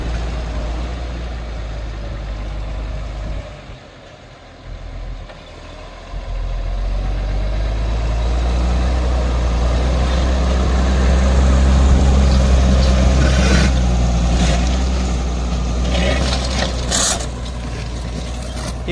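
A TS115A T6080 tractor pulling a five-disc, 28-inch plough runs steadily close by, its deep engine drone rising and holding louder through the middle, with no talk over it.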